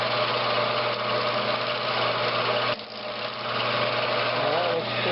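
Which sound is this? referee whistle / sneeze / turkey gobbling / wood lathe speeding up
wood lathe speeding up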